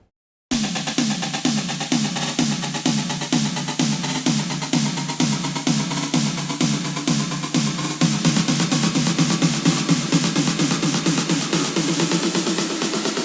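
Basic stems for an emotional progressive house build-up: a steady, loud driving pulse of repeated synth and drum hits that grows denser and slightly brighter, with rising energy toward the end and no voices.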